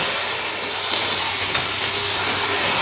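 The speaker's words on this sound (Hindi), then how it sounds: "गोश्त को साथ साथ हम फ्राई कर रहे हैं" Meat sizzles and fries with whipped yogurt in a pot at a village cookout, a steady close hiss and crackle with faint stirring and no talk.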